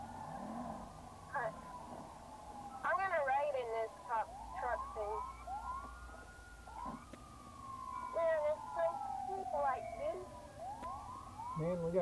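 Wailing sirens from several ambulances in GTA 5 rise and fall in overlapping sweeps, with game-style sound effects and brief chatter mixed in.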